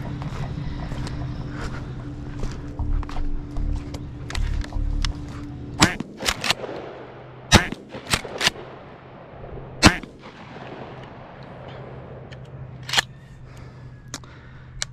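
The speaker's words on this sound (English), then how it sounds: "hopefully I'm close enough to shoot them as they fly off" Gunshots ring out at pigeons perched on a telephone pole, fired from a downed tree about seven feet off the ground. Several sharp, loud reports come in an irregular sequence outdoors, following a steady low engine-like hum that cuts off.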